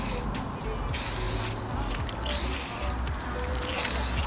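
Aerosol spray can laying clear coat onto carbon fiber trim in a DIY repair, heard as several short hissing bursts of spray with brief pauses between them, close and fairly loud.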